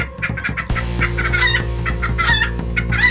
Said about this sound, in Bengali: এদিকে বাকি মুরগিগুলো ভয়ে চিৎকার করে ওঠে।